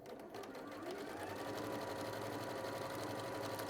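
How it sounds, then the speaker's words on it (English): A sewing machine runs steadily and close by, topstitching near the edge of a folded and pressed pocket, a continuous motor hum and needle rattle holding at an even level for the whole stretch. "I'm going to top stitch along that close to the edge, just to make it nice and neat"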